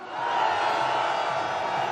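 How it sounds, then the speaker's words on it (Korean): A large rally crowd at a candlelight march toward Gwanghwamun roars a sustained cheer, dense and steady from start to finish. "이 마음을 모아서 함성 질러보겠습니다"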